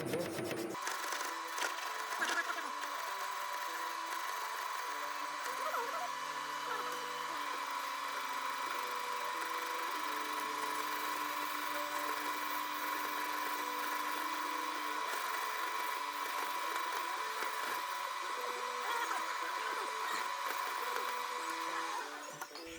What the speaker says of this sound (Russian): Затем по соседним сёдалам он выравнивает высоту посадочного гнезда.